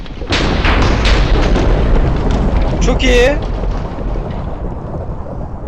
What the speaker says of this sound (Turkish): Oha şimşek çaktırabiliyoruz.